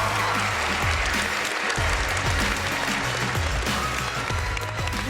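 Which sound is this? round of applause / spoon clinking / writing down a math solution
round of applause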